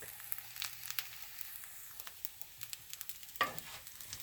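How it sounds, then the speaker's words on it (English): Brown rice toasts in a hot pan, a soft dry sizzle broken by light scraping stirs and one sharper clatter, close and fairly quiet. "You want to keep it moving now. You let it sit for a minute and stir."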